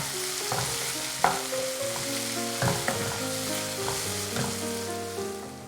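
Chopped onion and a finely cut medium tomato sauté in a pan for a spinach mushroom curry, with a constant sizzle and several sharp scrapes and knocks from stirring, and no voices.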